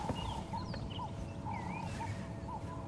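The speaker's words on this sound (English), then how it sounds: "The Cape turtle doves." Cape turtle doves coo in a steady repeating rhythm at moderate distance during an early morning safari drive in the African bush, with other birds whistling faintly behind.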